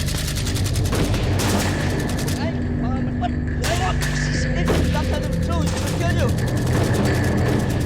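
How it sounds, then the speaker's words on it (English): Gunfire from people shooting in a tense confrontation: loud, dense bursts of shots and booms fill the scene, layered with shouting voices and other commotion throughout. "Stop shooting!"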